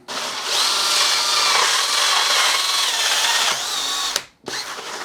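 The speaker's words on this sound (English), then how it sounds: "So we'll drill all the way through." A loud, steady power drill whirring as it bores through foam, then it abruptly stops and briefly restarts.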